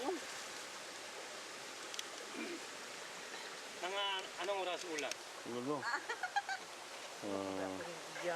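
A stream flows near a Batak village on Palawan in the Philippines, its steady broadband rush running throughout, with birds calling and people talking over it in the middle and toward the end.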